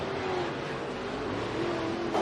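Race cars on the final lap at Eagle Raceway make a dense, steady engine roar. The pack's noise stays loud and continuous throughout, with no distinct pass-bys.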